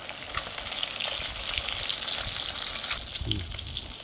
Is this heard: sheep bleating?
no